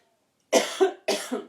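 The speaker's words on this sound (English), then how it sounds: "And maybe I'm coughing a little bit" Two close, sharp coughs, each with a short double burst, against silence.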